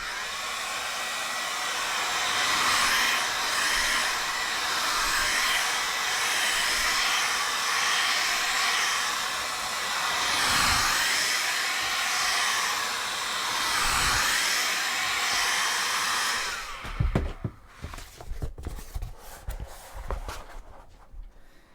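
A heat gun blows with a continuous loud roaring hiss while heating cosplay horns, running steadily for about seventeen seconds before cutting off into scattered handling knocks and rustles.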